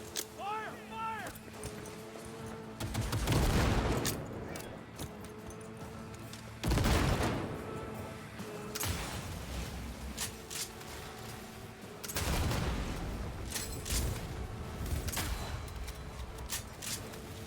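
Gunfire in Cyberpunk 2077, heard as a few bursts of shots around the 3-4, 7 and 12-13 second marks over a busy game mix, with in-game voices talking throughout.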